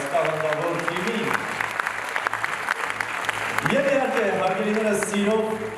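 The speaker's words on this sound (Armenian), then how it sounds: "Ծափերը բարձր հնչեցնենք ևս մեկ անգամ այս տաղանդավոր թիմին" An audience at a 15th anniversary concert of the NINAHAR Cultural Organization bursts into sustained, loud applause that carries on throughout, while a presenter's amplified voice speaks over the clapping.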